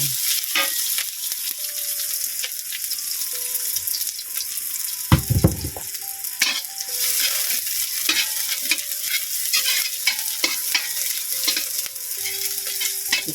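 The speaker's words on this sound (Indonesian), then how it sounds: "saatnya wayahe goreng jamur lumut pemirsa" Moss mushrooms frying in a pan give off a steady broadband sizzle throughout, with occasional stirring scrapes and clinks close by; there is no talking.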